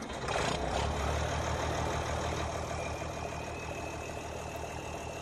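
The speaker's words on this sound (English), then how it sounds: "Alright, let's fire the T-dub up." A simulated tractor engine in Farming Simulator 2017 cranks over and settles into a steady, loud idle with a faint turbo whine, heard alone without talk.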